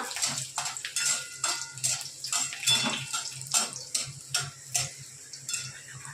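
Garlic sizzling in a pan while being stirred, a series of scraping clicks and crackles in an irregular rhythm, close up and with no voices.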